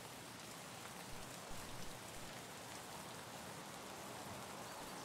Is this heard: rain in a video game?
yes